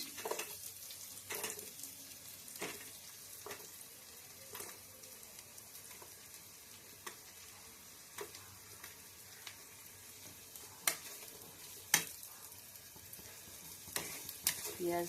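Onion frying in a pan for honey chicken gives a soft, steady sizzle, quiet and close, broken now and then by light clicks of a spatula stirring.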